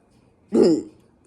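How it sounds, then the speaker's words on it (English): A single short, throaty burp after eating pizza-stuffed bell peppers with tomato sauce, close and partly held in, standing alone against a quiet room. "So that tomato sauce is making me burp."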